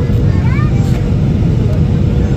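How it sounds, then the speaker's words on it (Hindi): Steady, loud low rumble of an airplane cabin in light turbulence while descending toward landing on a trip to Dubai, with a brief faint tonal sound partway through. "कुछ एयर टर्बुलेंस है हल्की सी जहाज़ में, हल्का सा"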